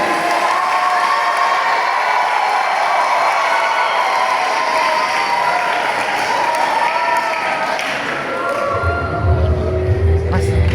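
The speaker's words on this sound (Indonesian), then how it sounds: "Beri tepuk tangan yang meriah." Applause and cheering from a large audience at a university ceremony marking an Islamic institute's conversion into a university. The clapping is loud and continuous, with crowd noise throughout.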